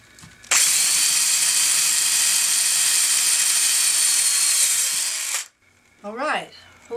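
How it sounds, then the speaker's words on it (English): Power drill spinning a plastic bit through a sheet of plastic into scrap plastic, a loud steady whine for about five seconds that stops abruptly, followed by a brief squeaky scraping. "So now I'm going to drill through this plastic into a piece of"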